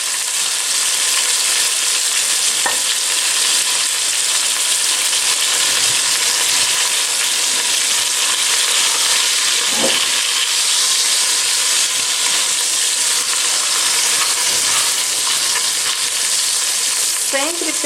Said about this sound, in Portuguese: à medida que nós formos selando, essa gordura da própria rabada vai descendo um pouco também